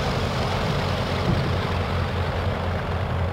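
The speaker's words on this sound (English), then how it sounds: "And so then the engine come back to 1100 RPM." Heard from the cockpit, a de Havilland DHC-1 Chipmunk's engine idles just after start at around 1100 RPM, giving a steady, loud, low pulsing drone throughout with no talk.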